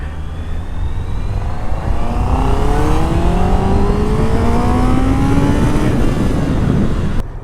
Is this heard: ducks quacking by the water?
no